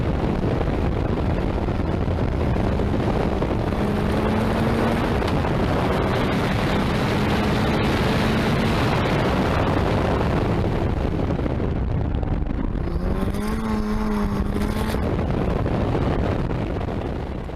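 Mazda Miata MX-5 racing in a time attack event, its engine droning steadily beneath heavy wind rush, with the pitch climbing and dropping as it works through gears and corners.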